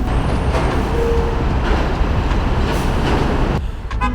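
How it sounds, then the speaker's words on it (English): A New York City train heads to Manhattan with a loud, continuous rumble and rattling carriage noise, the roar steady for several seconds before dropping away abruptly near the end. "So now we're going to take the train to Manhattan"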